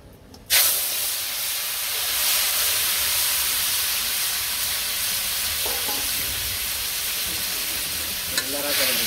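Oil sizzling and hissing loudly in a wok on a village stove, with a steady stirring scrape, after a brief quiet start; a few metallic clinks near the end.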